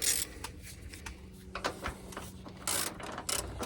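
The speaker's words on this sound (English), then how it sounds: "We'll tighten the bottom shock bolt with 19mm." A 19mm socket ratchet tightens the rear shock bolt on a Nissan Armada, giving short bursts of close, dry clicking with pauses between strokes.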